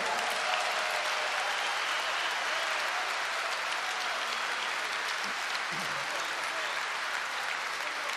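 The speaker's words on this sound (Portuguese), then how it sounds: "Uma salva de palmas para ele" Steady, dense applause from a large concert crowd in Lisbon, honoring a keyboardist introduced on stage, sustained and even throughout with a faint low murmur underneath.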